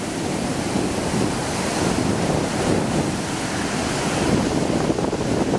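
Ocean surf breaking steadily at Virginia Beach, Virginia during a king tide surf session, a continuous loud wash of waves with wind rumbling across the microphone and no voices.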